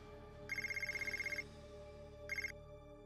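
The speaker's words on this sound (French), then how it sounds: "Sagar, tu sais depuis combien de temps j'essaie de t'appeler?" Telephone ringing during a call attempt, two close electronic trilling rings, the first about a second long and the second shorter, with a pause between and a faint hum under both.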